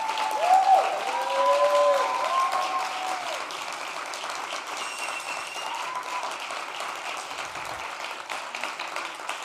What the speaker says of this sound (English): I really would like us to give her a round of applause